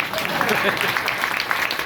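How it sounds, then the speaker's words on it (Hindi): A crowd applauds at a book launch event, a dense continuous wash of clapping, loud and close, with voices mixed in under it. "ताली बजानी है, जोर से बताओ।"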